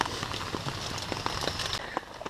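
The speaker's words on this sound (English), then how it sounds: "we're getting all this rain" Rain falling around a backpacking campsite in the Charles C. Deam Wilderness, a dense steady patter of drops on surfaces with scattered sharper splats close by.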